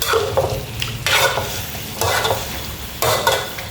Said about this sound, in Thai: คั่วไก่ค่ะ คั่วไก่ให้สุกก่อน แล้วเราค่อยไปใส่ในหม้อแกงนะคะ